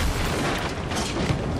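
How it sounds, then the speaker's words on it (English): Cannon fire booms in battle in the Shadow Tactics video game, a dense, loud rumbling explosion sustained across the short moment. "Watch for cannon fire."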